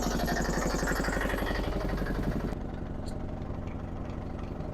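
A motorboat engine on the Ganga river at Varanasi chugs with a loud, steady low throb, then the level drops slightly partway through and the engine keeps running evenly, with no voices.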